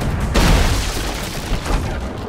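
A ship taking cannon fire in the pirate game Sea of Thieves, a heavy booming impact followed by a rolling, noisy rumble with smaller thuds, loud and close.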